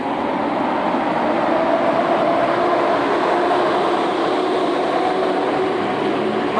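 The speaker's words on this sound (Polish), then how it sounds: "A tu już odjeżdża siódemka żółtymi dziobami." A train with yellow-painted noses pulls away from Rawicz railway station, a steady loud rumble of wheels and motors rolling on without pause, no voices over it.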